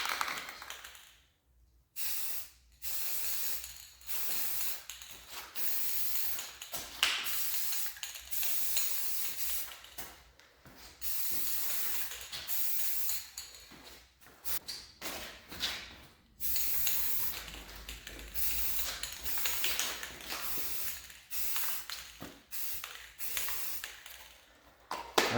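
Gold spray paint hisses from an aerosol can onto a lamp in repeated short and long bursts, each spray a bright airy hiss separated by brief pauses, close and fairly loud with no talk.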